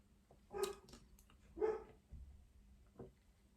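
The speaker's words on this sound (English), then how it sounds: "Excuse my dog who's barking." A dog barks three times, spaced about a second apart, fairly close but not loud, over a quiet room.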